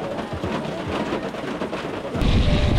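Steady rain falling outdoors toward dusk, a dense continuous hiss that grows heavier and louder near the end, with no voices.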